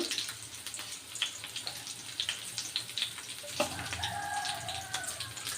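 Cumin seeds and curry leaves frying in hot oil in a pan for jeera rice, a steady close sizzle with crackling pops throughout, no voices.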